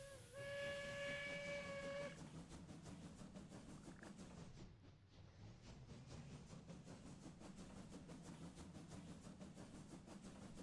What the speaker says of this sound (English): Oh, more trains?